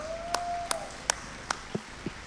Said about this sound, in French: Tutti applaudiamo per lui, un grande applauso.